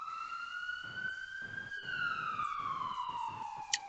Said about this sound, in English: ambulance sirens echo loud in the distance